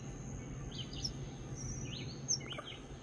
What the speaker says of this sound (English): There's only one little Phoebe baby left. Just sitting up there on the edge,